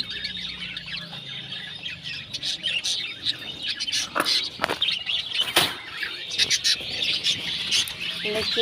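Caged pet birds that have laid eggs and raised chicks fill the air with rapid, overlapping chirps and sharp tweets, loud and near, with brief wing flutters amid the constant chatter.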